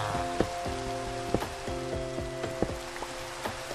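Rain falls steadily in a Minecraft survival world, a constant patter with scattered sharper drips, layered over a droning musical tone.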